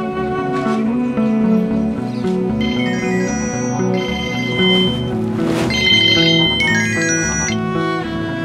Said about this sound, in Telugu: నేను వీనికి ఫోన్ చేస్తాను.